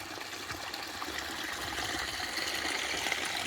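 Water runs steadily from a possible artesian well in Dinosaur National Monument, a continuous close hiss and trickle that builds slightly louder over a few seconds.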